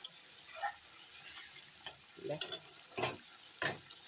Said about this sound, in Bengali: মশলাটা সুন্দর কষানো হচ্ছে